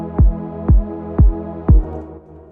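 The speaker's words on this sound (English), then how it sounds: "Now we're just gonna add a tasty 4 on the floor kick pattern." Four evenly spaced kick drum thumps in a steady four-on-the-floor pulse, deep and punchy, with a short decay after the last hit.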